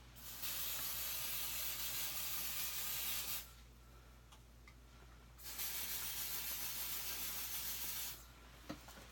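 Two long bursts of aerosol spray hiss, each lasting a few seconds with a quiet gap between, fairly close and steady.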